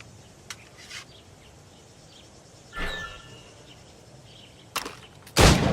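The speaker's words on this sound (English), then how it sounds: "Shoot these targets" Gunfire at shooting targets in Assassin's Creed Rogue: a few sharp isolated shots spaced apart, the last one loudest and nearest, over a quiet outdoor ambience with light bird-like chirps.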